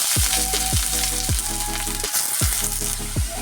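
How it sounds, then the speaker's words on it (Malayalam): Sliced onion frying in oil with mustard seeds and curry leaves gives a loud, close, continuous sizzle, with a few stirring scrapes and no talk. "ആവശ്യത്തിന് എണ്ണ ഒഴിച്ചു കൊടുക്കാം കടുക് കറിവേപ്പില ഇനി ഇതിലേക്ക് നമ്മൾ സവോള ഇട്ട് കൊടുക്കാം"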